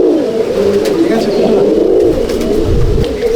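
A male Andhra pigeon held in the hand coos loudly and close, giving a continuous throaty rolling coo that swells and wavers across the whole moment, with slight handling noise beneath.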